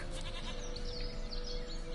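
A goat bleats in The Witcher 3 video game, a drawn-out wavering cry over a steady background hum and ambient game sound.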